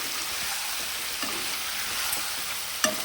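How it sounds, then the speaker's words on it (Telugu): Marinated chicken frying in tempering oil in a pan, with a little extra oil, for a chicken curry, being stirred now and then. A steady close sizzle runs throughout, with a few soft stirring clinks and a sharper tap near the end. "ఇక మనం ఈ మ్యాగ్నేట్ చేసినటువంటి చికెన్ని తాలింపులో వేసేసుకుందాం."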